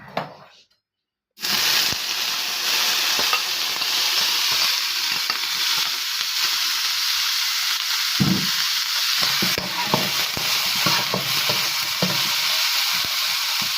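Diced ham sizzling and frying in a hot pan on a stovetop for homemade special fried rice, a steady loud crackle that starts abruptly after a brief quiet moment and carries on with occasional stirring scrapes.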